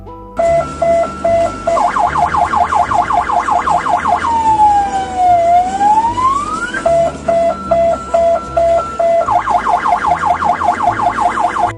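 A loud, close ambulance siren cycles through a fast warbling pattern, shifts to a slow rising and falling wail, then returns to rapid alternating tones.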